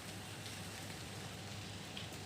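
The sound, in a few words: light drizzle rain falling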